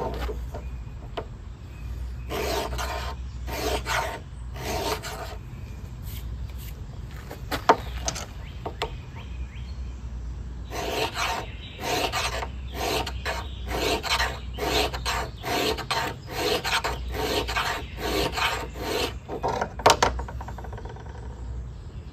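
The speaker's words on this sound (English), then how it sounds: "Present the spine at 90 degrees to the stone, drag back 10 times, and then feel for the burr." A knife spine is dragged back and forth across a Smith's diamond sharpening stone, making a run of close, dry rasping strokes in uneven bursts of repeated passes, with faint outdoor insect or bird sounds behind.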